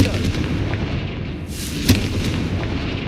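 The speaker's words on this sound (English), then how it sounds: "Confringo." A Confringo fire spell explodes in the Hogwarts Legacy video game, a sharp blast near the middle that rises over a steady rumbling bed of game noise and music.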